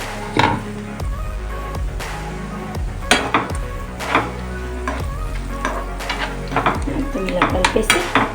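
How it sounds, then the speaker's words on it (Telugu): Prawn curry with potato and brinjal is stirred in a pan and scooped onto a serving plate, with repeated metal clinks and scrapes of utensil against cookware over a low steady background. "ఇలా కలిపేసి సర్వింగ్ ప్లేట్లో తీసేసుకోండి"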